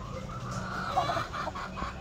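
A crossbred grey asil and game fowl hen gives soft, close clucks and low throaty calls over a faint background, a brief bird sound at a gamefowl breeding yard.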